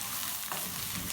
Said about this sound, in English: So I'm still frying it on high at this point